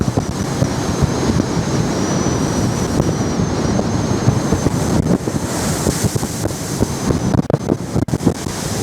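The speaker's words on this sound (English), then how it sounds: "Here's a sample of the way the winds were blowing and the waves were rolling." Strong wind and 10 to 12 foot waves roll across Lake Huron as heard from the deck of an autumn cruise ship, with dense, steady wind roar and surging water close to the microphone, and no speech.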